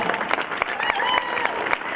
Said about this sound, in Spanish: también un fuerte aplauso para ellos